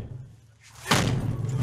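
A police battering ram strikes an apartment door during a drug raid in Lille, one heavy sudden thud with a sharp crack of impact, loud and close, followed by a lingering rumble and bustle.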